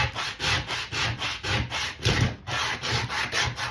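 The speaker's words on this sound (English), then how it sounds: "This is a 40 grit sandpaper. It is extremely aggressive, and it does leave scratches in the wood" Hand sanding of wood with coarse 40 grit sandpaper, rapid rhythmic back-and-forth scratchy strokes at about three per second, close and steady with no voices.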